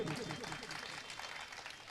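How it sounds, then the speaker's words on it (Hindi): Audience clapping greets a poet at a mushaira during the Dharavi Festival in Mumbai. It is a faint, steady patter lasting about two seconds, with a voice heard at the start. "एक मरतबा पुरजोर तालियों से इस्तेकबाल कीजिए दोस्तों"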